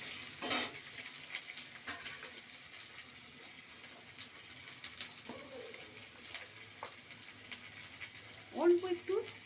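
Chopped onion sizzling in a pan for Bengali lentil-fritter curry, a soft steady fry with occasional louder stirring clatters at the start and end, faint and close.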